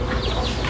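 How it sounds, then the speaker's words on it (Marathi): A broody hen on a small village poultry farm clucks in short, close repeated calls against steady background noise. "हे खुडक झालेली कोंबडी आहे ना"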